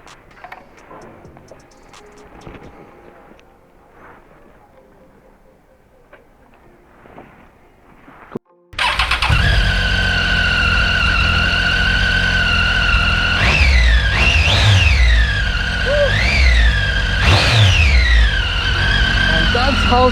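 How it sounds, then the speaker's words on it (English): A used Triumph Tiger 800 triple-cylinder dual-sport motorcycle. After a quiet stretch its engine fires up loudly and close, then idles with a steady rumble broken by several sharp revs that rise and fall. "Now, it's time to listen to the amazing sound of this triple cylinder motorcycle."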